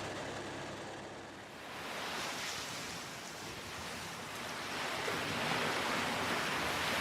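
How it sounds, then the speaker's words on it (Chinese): Surging ocean waves on the Coral Sea, a soft, continuous wash of surf that swells gradually louder toward the end, fairly quiet and with no voices. "汹涌澎湃的大海中"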